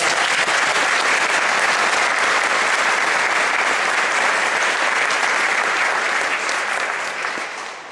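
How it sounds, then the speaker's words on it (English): A crowd applauds at an outdoor Veterans Day parade event, sustained dense clapping at steady volume for several seconds before it starts to fade at the end. "please just join me in a round of applause for everybody who made it"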